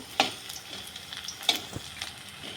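Malabar spinach leaf fritters frying in oil, a low continuous sizzle and crackle broken by a few sharp clinks of a utensil against the pan, with no talking.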